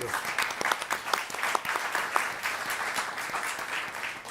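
Audience applause at a panel discussion event on a green development agenda: steady dense clapping from many hands for about four seconds, with individual claps standing out over a continuous wash.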